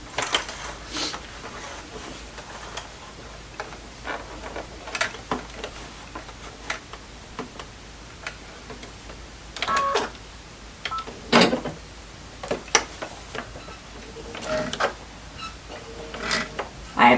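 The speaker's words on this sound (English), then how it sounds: "I'm just going to get started sewing." Sewing machine stitching a drawstring bag with a short 1.2 stitch length, a fast ticking mechanical patter in steady bursts with brief pauses, fairly close and moderate in level.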